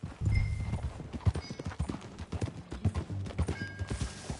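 Horse hooves clip-clopping in a steady walking rhythm in a PS4 video game, fairly close and moderately loud, with a faint whinny-like tone and no talk over it.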